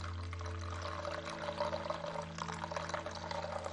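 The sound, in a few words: pouring hot water into coffee grounds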